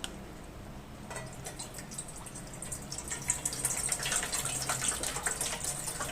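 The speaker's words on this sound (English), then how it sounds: "So let's put some water in a pot." Water pouring from a tap into a cooking pot for rice, a hissing splash that starts softly, then grows fuller and louder as the stream strengthens.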